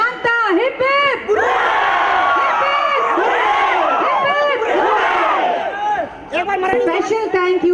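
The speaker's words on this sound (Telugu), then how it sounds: "3 cheers to Shanta. Hip hip" Shouted three cheers from a big crowd at a company family day event at a water park: repeated loud, massed hooray bursts answering a leader's calls, with voices close and energetic.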